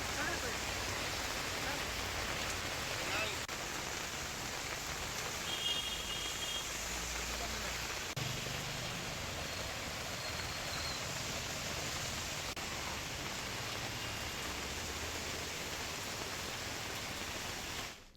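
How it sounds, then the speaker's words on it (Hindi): Steady rain falls over Bilaspur, Madhya Pradesh, a dense continuous hiss lasting throughout at even loudness, with no voices over it. "इधर बिलासपुर में बारिश का दौर फिर शुरू हो गया।"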